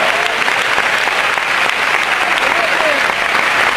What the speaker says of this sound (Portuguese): Aplauda Jesus em nós